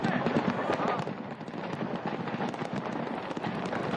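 Stacks of firecrackers burn in a blaze at firecracker shops on the Dussehra grounds, crackling and popping in a loud, dense, continuous barrage of rapid bursts, with voices faintly audible underneath.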